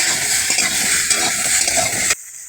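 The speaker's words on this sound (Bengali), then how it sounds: "এবার দিয়ে দেবো কেটে ধুয়ে রাখা আলু এবং পুঁই ডাঁটাগুলো। নেড়ে চেড়ে নেব" Potatoes and Malabar spinach stems stirred in a hot pan, a steady close scrape and sizzle that runs continuously before cutting off abruptly near the end.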